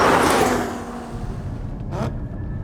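A Sharkwerks-modified Porsche Cayman GT4 with a roughly 430-horsepower flat-six roars loudly at first, the engine note easing into a steadier, quieter drone, with a short sharp burst near the end.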